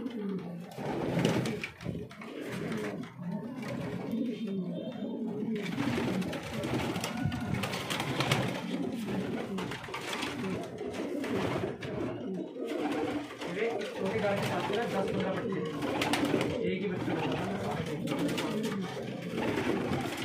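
Pigeons coo continuously nearby, layered into a dense, steady murmur with some indistinct background noise throughout.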